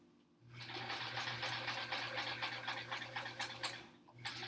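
A sewing machine stitches sections of a quilt block in a fast, steady mechanical whir that pauses briefly near the end before resuming.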